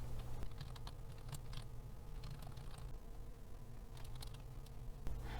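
Text is typed on a computer keyboard during a PowerPoint exam practice task, with a steady run of soft, close key taps and occasional sharper strokes over a constant low hum, with no voices.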